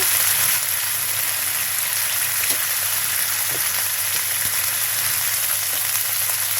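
Garlic, cumin and onion fry together in a pan for a tripe (bhuri) dish, producing a dense, steady, close sizzle that stays even throughout, like rain on a surface.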